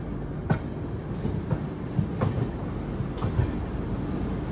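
The Millennium Superfast Express runs on its rails with a steady dense rumble, broken by a handful of sharp wheel clacks at uneven intervals, close and with no voices.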